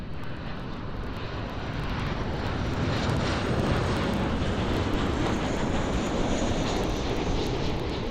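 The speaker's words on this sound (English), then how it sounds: "And we'll just get this KLM flight." A KLM airliner passing at Amsterdam airport, its jet engine roar steady and loud throughout, building slightly toward the middle and staying broad and continuous with no talk over it.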